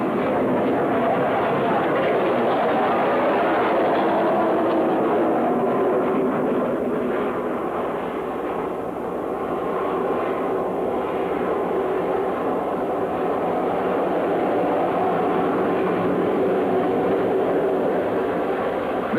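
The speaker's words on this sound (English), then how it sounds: "in horizontal flight, it has the speed and performance of a jet interceptor." Vertijet jet interceptor in horizontal flight gives a loud, continuous roar that holds steady from start to finish, with no voices over it.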